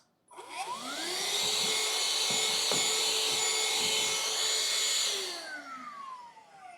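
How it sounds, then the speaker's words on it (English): A vacuum cleaner picks up plastic flakes while winter cat shelters are being built. Its motor whirs up quickly, holds a loud, steady roar for about five seconds, then winds down with a falling pitch. "Vacuum alert."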